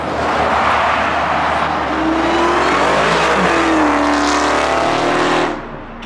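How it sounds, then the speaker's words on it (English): A widebody Dodge Charger Hellcat roars loudly up close, its engine pitch climbing and dropping through gear changes in a sustained growl, then cutting off abruptly near the end. "the downshifts on that shit sound way crazy too"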